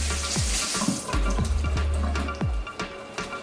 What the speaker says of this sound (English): Just gonna rinse some kale off here.